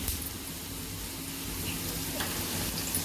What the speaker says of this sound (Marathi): आता हा चांगला ठेचा तेलात परतायचा